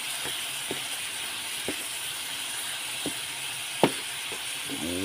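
Bitter gourd (ampalaya) with egg cooking in a frying pan, a steady loud sizzle with a few scattered scrapes and clicks as the mixture is stirred, close up, no voices.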